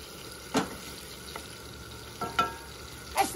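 Italian sausage browns in a pan with a steady, soft sizzle and a few brief scrapes as it is stirred, heard close up with no talking.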